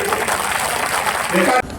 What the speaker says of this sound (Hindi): जोरदार ताली बजा करके स्वागत करिए।